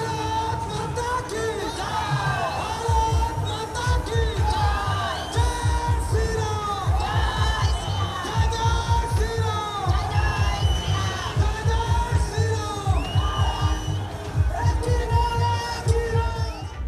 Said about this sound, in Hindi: ओहो, कितनी भीड़ है!